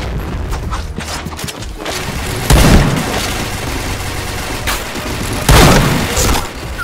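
Two heavy blasts from C4 charges in a video game, spaced a few seconds apart, each a sharp loud boom with a rough decaying tail over continuous game noise.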